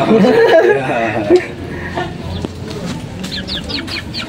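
Fighting-cock hens cluck and murmur close by in a backyard breeder's yard, with a few brief chirps from chicks in the background.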